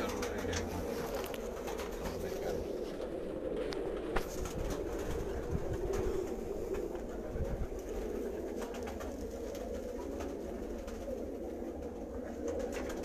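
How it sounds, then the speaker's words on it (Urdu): A mixed Banke and Ferozpuri breed of pigeons coo in soft, continuous rolling bursts close by, with faint background rumble and occasional clatter. "بانکے اور فیروز پوری مکس کبوتر ہیں"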